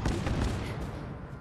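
Gauss turrets defending a settlement in Fallout 4, a dense, loud burst of heavy rapid fire with no pauses, fading slightly at the end.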